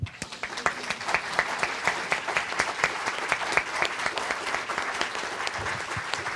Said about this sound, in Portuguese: Nessa hora a gente aplaude.